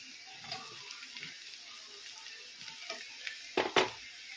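Soya chunks frying in a pan with onion, ginger, garlic and green chilli, a soft steady sizzle with scattered stirring scrapes and two louder clatters near the end, no talking.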